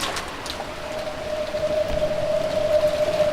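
Rain driven by wind in the video game Umineko, a steady hiss of falling drops that builds slightly louder toward the end, with a faint tonal hum running beneath it.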